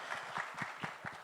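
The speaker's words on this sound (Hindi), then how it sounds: "एक बार जोरदार ताली होनी चाहिए" An audience at a film trailer launch claps in a quick rhythmic pattern, fairly faint and distant, with no clear speech over it.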